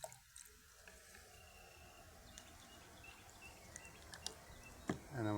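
Hydrangea cuttings being rinsed under a running tap give a soft, steady hiss of flowing water with a few faint drips and splashes, quiet and close throughout.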